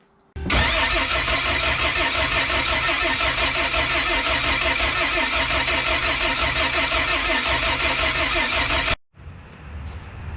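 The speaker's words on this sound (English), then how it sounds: "I've never been nervous to start an engine before." A car engine, recently worked on with a questionable tensioner bolt and the harmonic damper removed, cranks and fires into a loud, steady, dense run for about eight seconds, then cuts off abruptly, leaving a quieter mechanical hiss.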